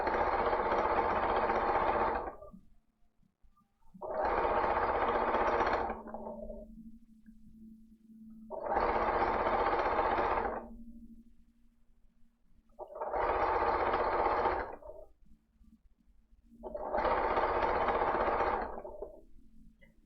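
A sewing machine runs a short 2 mm back stitch in five steady bursts of about two seconds each, separated by brief quiet pauses with a low hum, loud and close.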